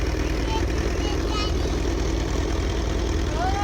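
A Suzuki Gixxer 750 motorcycle idles with a steady, low, continuous engine rumble that stays even throughout, close by and fairly loud, with faint background noise and no clear talk.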